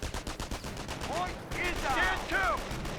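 Rapid MG42 machine gun bursts rattle through a Company of Heroes 1 battle, a steady loud chatter with whistling tones drifting over it.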